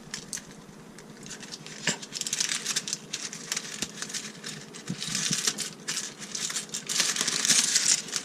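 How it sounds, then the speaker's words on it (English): A salmon fillet is unwrapped from crinkly packaging, giving close, busy rustling and crackling that rises and falls throughout with a few sharp ticks. "Get one of our salmon. Of course, unwrap it first."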